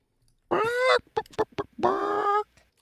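A person imitates chicken noises with a voice: two drawn-out nasal squawks framing a quick run of short clucks, loud and close with nothing else around.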